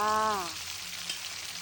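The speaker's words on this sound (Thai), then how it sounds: "เราก็จะเอาหมึกนะคะ แล้วก็กุ้งที่เราทำความสะอาดเรียบร้อยนะคะ ลงไปผัดได้เลยค่ะ" Squid and shrimp dropped into hot oil in a pan for a Thai seafood basil stir-fry, giving a close, even sizzle that briefly overlaps the end of a voice and then carries on alone.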